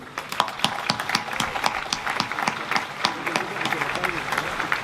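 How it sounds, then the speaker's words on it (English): A press-conference audience applauds boxer Dominic Breazeale before his fight with Anthony Joshua, a steady patter of many hands clapping at close range with crowd noise underneath throughout. "Let's give a round of applause to the challenger to say a few words, Dominic Breazeale"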